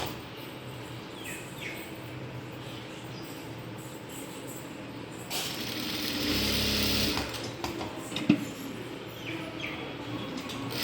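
A sewing machine stitches a shirt collar in a short, close run of rapid mechanical whirring that starts midway and stops about two seconds later, with quiet room sound before and after.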